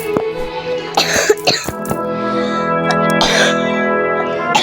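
A person coughs and clears their throat several times in short, harsh bursts, close to the microphone. Sustained musical tones and game sounds play underneath, and the room adds a slight echo.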